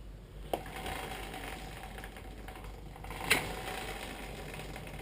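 The front wheel of a Yamaha TW200 motorcycle spins while its brake drags, a soft, close rubbing whir with two sharp clicks about three seconds apart.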